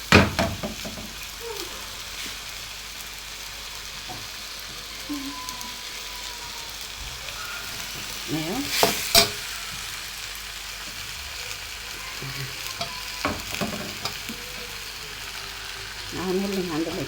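Green beans, carrots, garlic and onion frying together in a pan, a low steady sizzle running throughout with occasional stirring clatter and a brief louder scrape near the middle.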